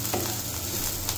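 Onions for a vegetable navratna dish sizzle loudly in a pan and are stirred as they brown, making a dense, continuous frying hiss over a brief moment.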